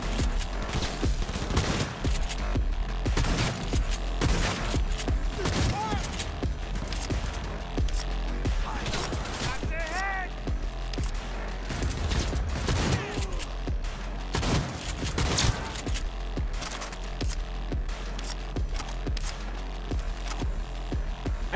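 Rapid gunfire erupts throughout a firefight in the video game Cyberpunk 2077, with dense overlapping bursts and shots mixed with game effects that stay loud and continuous for the whole stretch.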